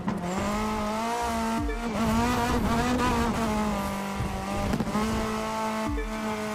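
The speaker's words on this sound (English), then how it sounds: "this car sounds so nice, but it is indeed very loud" A race car engine in The Crew 2 roars loudly and continuously, pitch climbing and dropping sharply with each gear shift, like high-revving motorsport.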